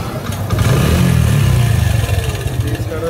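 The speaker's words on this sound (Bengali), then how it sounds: "গাড়িটা এখন স্টার্ট হয়ে গেছে," A small vehicle engine, just repaired with a new battery and rectifier, fires up and runs with a loud, uneven putter and slight revving, close by, with a voice talking over it.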